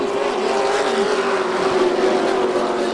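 Pro trucks race on a dirt speedway at Volusia Speedway Park in Florida, engines droning in a steady, loud roar with a sustained tonal whine as the pack runs close together, no voices over it.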